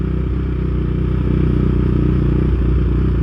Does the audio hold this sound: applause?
no